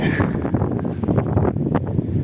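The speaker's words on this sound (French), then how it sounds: "le vent il s'est pas calmé, il est de mon côté" Strong wind buffets the microphone outdoors beside a camper van at dusk, a loud continuous rumbling roar with gusty surges and no voice over it.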